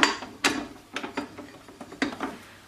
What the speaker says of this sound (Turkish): robotumla yoğurmaya başlıyorum